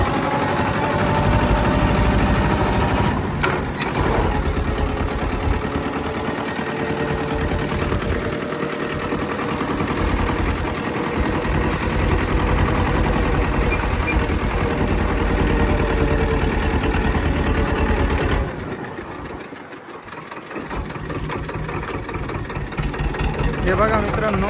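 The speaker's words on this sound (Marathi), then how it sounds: "वखरायचं काय रापसाप रापसाप जोरात ट्रॅक्टर चालवतो" Tractor engine running steadily at close range while harrowing a maize field, a continuous loud mid-pitched drone that dips briefly near the end before resuming.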